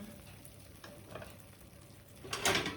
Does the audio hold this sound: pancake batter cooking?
yes